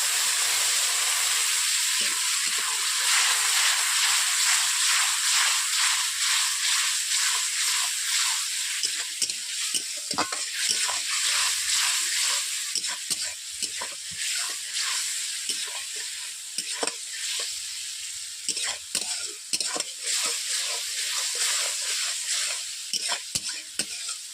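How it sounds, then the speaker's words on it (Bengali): A little water poured onto spices frying in a kadai with chilli and turmeric, a loud steady hissing sizzle broken by repeated stirring scrapes, close and without speech. "কড়াইতে যেহেতু মশলাগুলো বসে যাচ্ছে তার জন্য আমি অল্প করে জল দিয়ে দিচ্ছি"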